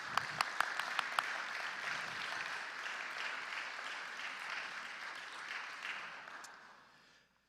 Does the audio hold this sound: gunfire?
no